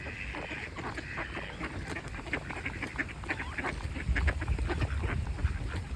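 Ducks quack and honk outdoors in a park-like spot in Los Angeles, with steady background noise and low rumble underneath.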